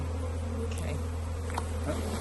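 Honey bees buzz steadily around the openings of a hive on a farm in Portugal, a continuous low drone with brief, faint insect passes near and around, and no speech.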